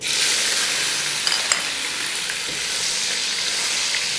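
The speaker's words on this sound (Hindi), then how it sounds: "थोड़ा सा सौटे करेंगे" Chopped tomato and jalapeño sautéing in hot oil with cardamom and bay leaves, a steady close sizzle with faint stirring scrapes, no voices.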